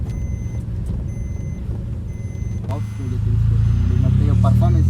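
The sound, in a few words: three-cylinder vehicle engine sound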